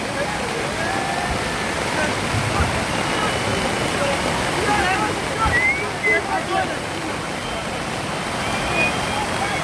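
Floodwater from a heavy rainstorm rushes steadily and loudly through the whole stretch, a dense, unbroken roar with surging churn, strong enough to sweep cars away; voices can be faintly made out beneath it.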